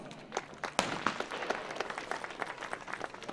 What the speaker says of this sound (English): Please give a round of applause for Isaac Hicks.